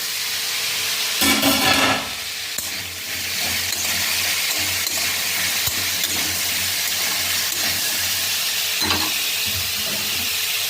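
White potato curry (aloo chorchori) cooks in a pan with a loud, steady sizzle and hiss. A few close bursts of stirring and scraping come through clearly, and no one speaks.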